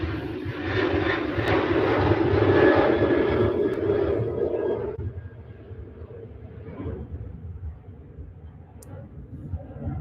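Passenger jet engines at Manchester Airport roar loudly for several seconds, then fade to a quieter distant rumble with a faint voice underneath.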